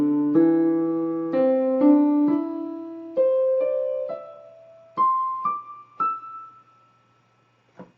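Piano plays a beginner primer piece, with both hands using the second, third and fourth fingers. Single notes and paired tones step upward one after another in a slow, even rhythm, close and clear, then fade to silence.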